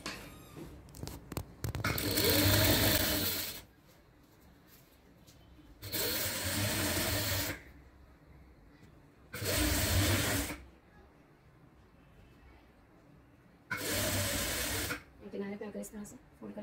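An electric sewing machine stitching a fabric sleeve runs in four separate bursts of a couple of seconds each, a loud, even motorized whir, with quiet pauses and some talk between runs.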